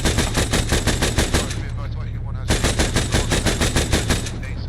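Rapid automatic gunfire from an Arma 3 military shooter game, loud, close bursts of evenly spaced shots with a short pause in the middle before firing resumes.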